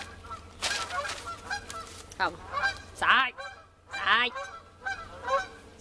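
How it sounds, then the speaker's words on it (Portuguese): Goose honks repeatedly in loud, ragged bursts close by, with someone shouting over them in Portuguese. "Sai! Sai, ganso maldito!"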